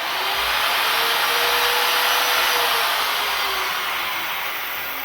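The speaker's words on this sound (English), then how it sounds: "It'll take forever to spool down when it shuts back off." A wood router winds down after being switched off, giving a loud, steady, rushing whine that fades only slightly over several seconds.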